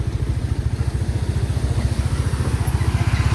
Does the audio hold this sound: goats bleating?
no